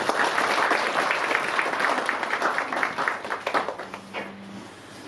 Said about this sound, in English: Let us all give them a wide round of applause.